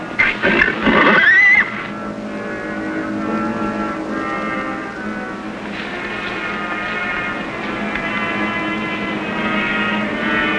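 A horse whinnies loudly at the start, followed by a long stretch of low sustained droning tones with no talking.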